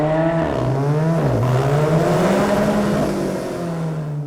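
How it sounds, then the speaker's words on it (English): A 2015 Alfa Romeo 4C Spider with a specially tuned exhaust, heard at an auto show reveal, gives a loud, close engine note whose pitch rises and falls as it revs, with no talk over it. "True Alfisti will immediately recognize the distinctive Alfa Romeo 4C exhaust note, produced by a specially tuned exhaust."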